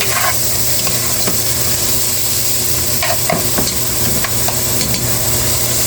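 Garlic frying in a hot pan at home, a steady, loud, dense sizzle with scattered crackles and light stirring scrapes running throughout, no voices.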